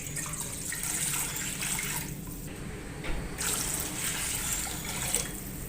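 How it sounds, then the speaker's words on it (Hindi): Water being poured into a kadai on a stove, two liters of it, a steady splashing stream that runs with a few brief breaks, fairly soft and heard alone. "पानी ऐड करेंगे 2 लीटर।"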